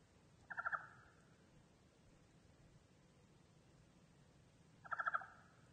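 A raven calling for food after a winter storm: two short bursts of rapid, gobbling croaks, each under half a second, several seconds apart over a quiet outdoor hiss.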